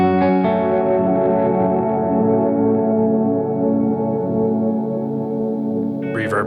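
A guitar runs through an effects pedal in granules haze mode, giving a loud sustained chord smeared into a dense, reverb-like wash that slowly fades, with a brief bright flicker near the end.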